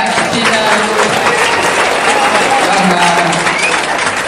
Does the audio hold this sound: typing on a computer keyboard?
no